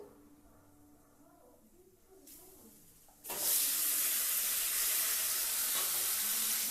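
Ground pea paste goes into hot oil seasoned with dried chili, setting off a sudden loud, steady sizzle that swells and holds close after a quieter stretch of faint kitchen sounds.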